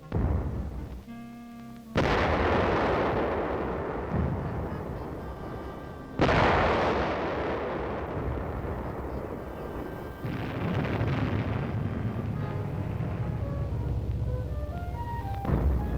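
Explosions and artillery fire in a simulated battle: loud booming blasts hit at intervals, each followed by a long rumbling decay, with a continuous roar of battle noise beneath and no voices.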